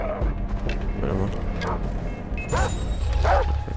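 Dogs bark and yip in Far Cry 3, several sharp barks scattered over a busy background of game sounds and music.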